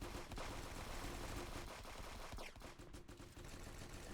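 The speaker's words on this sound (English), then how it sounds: "This man has shot me." Rapid video game gunfire rattles continuously in dense bursts, loud and close, easing slightly toward the end with no talking over it.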